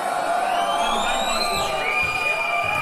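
A battle rap audience roars, whoops and shouts in a loud, continuous burst of mixed cheering voices throughout.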